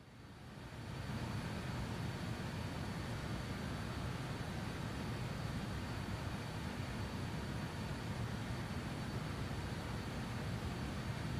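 A DC-6 airliner flies by in a flight simulator game, a steady broad engine roar that rises in the first second and then holds loud and unchanging to the end, with no talking.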